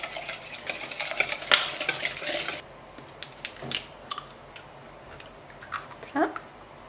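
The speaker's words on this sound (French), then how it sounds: "Je remue entre chaque œuf." A spoon stirring chocolate batter in a bowl after an egg is added for a Valentine's dessert, with irregular scraping strokes, soft clinks and taps against the bowl, close and fairly quiet.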